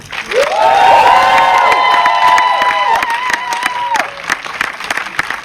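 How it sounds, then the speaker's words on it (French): A crowd at a public meet-and-greet with actress Neve Campbell breaks into loud, sustained applause mixed with high cheering and shrieks. The cheering swells early, then thins out over the final seconds. "Merci de réserver, s'il vous plaît, un tonnerre d'applaudissements à Ned Campbell."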